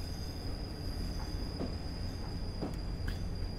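A train rolls along in the Train Simulator 2015 video game, giving a steady rumble with faint rail clicks and a thin high whine running through it.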